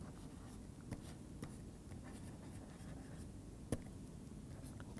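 Chalk or marker scratches faintly on a board with soft, scattered strokes and one sharper tap, in a quiet room.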